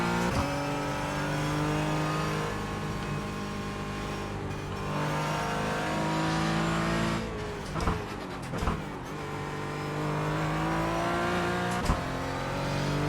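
Porsche 718 Cayman GT4 engine in the iRacing sim, steady mid-pitched drone rising and falling through revs and gear shifts, with a few brief bumps over a long lap and no voices.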